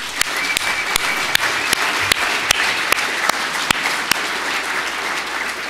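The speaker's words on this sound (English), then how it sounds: "Give her a round of applause." Steady applause from the audience at a facilities professionals' annual meeting in San Francisco, a dense wash of clapping that carries on for several seconds with sharper individual claps standing out.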